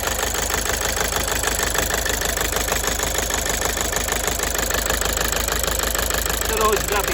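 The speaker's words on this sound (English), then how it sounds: "but we have a misfire." A Toyota Avensis engine with a misfire, blamed on a failing number 2 injector, idles steadily and close up. A continuous mid-pitched rumble carries a fast, uneven pulsing throughout.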